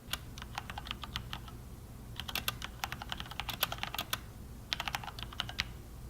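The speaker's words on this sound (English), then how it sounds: "Here's how the reds sound." Cherry MX Red mechanical keyboard switches being typed on, quick clusters of light, close clicks and clacks in short bursts separated by brief pauses, over a faint low hum.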